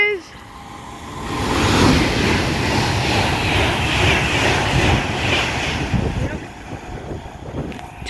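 British Rail Class 350 electric train passing close by, a broad rushing roar that builds quickly, holds for several seconds and then fades, with voices talking over it.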